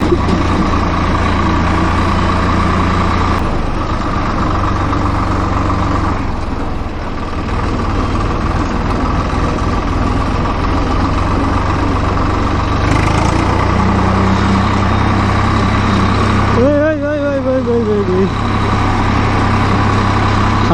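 A tractor engine drones loudly and continuously during a village ride, a low rumbling chug with shifting throttle and a brief rising tone near the end.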